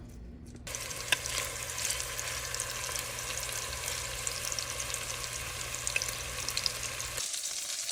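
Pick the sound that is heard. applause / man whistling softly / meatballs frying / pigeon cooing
meatballs frying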